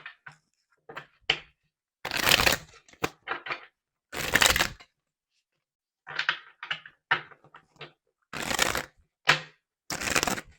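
Tarot-style cards being shuffled for a reading produce short, crisp riffling bursts and flicks, close and dry, separated by silent gaps, with no talking.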